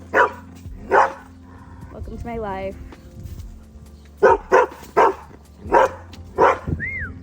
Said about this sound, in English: Then we have the dog.